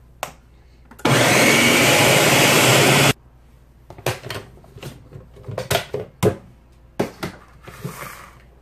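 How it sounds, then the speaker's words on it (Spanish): A blender whirs loudly and steadily for about two seconds while blending corn batter for corn fritters, then stops, followed by scattered clinks and handling noises from kitchenware. "Y vamos a licuar muy bien."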